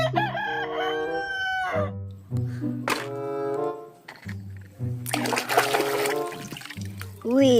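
Toy rooster giving repeated electronic cock-a-doodle-doo crows, several bursts in a row at close range, with a splashy noisy patch in the middle.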